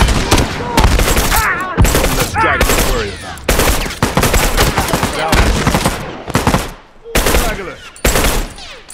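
Gunfire in The Last of Us multiplayer: loud, rapid bursts of close shooting that repeat almost without pause, with brief gaps between volleys.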